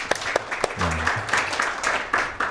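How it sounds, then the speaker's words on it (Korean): A classroom of students claps together in a short burst of applause during a lecture, steady and fairly close, with a brief voice murmuring over it. "자, 우리 박수 한번."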